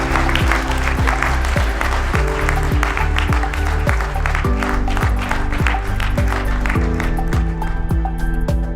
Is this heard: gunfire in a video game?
no